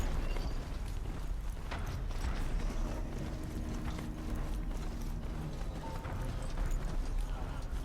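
Horse hooves clip-clop steadily through a crowded open-world map in the video game Horizon Zero Dawn, a continuous trotting rhythm blended with mechanical creaks and ambient game sound, no talk over it.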